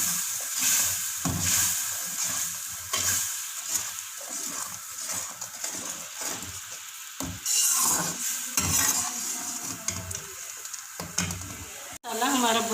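Whole spices such as black pepper, cloves and cardamom are fried with turmeric and coriander powder in a pan for aloo gosht, with a crackling sizzle, repeated stirring scrapes and clinks of a utensil, and some speech in between.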